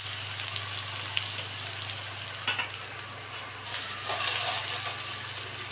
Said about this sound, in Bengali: যে ভাজাটা হচ্ছে পেঁয়াজ, এবার আমি রসুনটা দিয়ে দেবো।